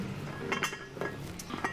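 A metal cooking pot handled in a home kitchen, giving a few light clanks and clinks in quick succession, close and fairly quiet.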